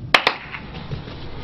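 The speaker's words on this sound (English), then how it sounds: "So I installed these clap-on lights." Two sharp hand claps in quick succession switch on clap-on lights in a quiet room, followed by faint low background hum.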